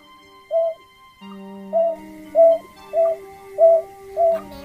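A recorded call of the ca cuoc bird, played back as a lure, gives six short, clear cooing notes at a steady pace, loud and close over a faint electronic hum.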